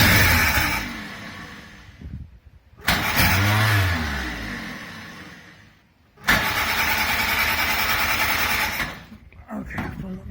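A Ford GPW Jeep engine being rebuilt cranks and catches, then runs loud and close with a rough, smoky idle, dies out, and fires up again before sputtering; voices are heard faintly in between.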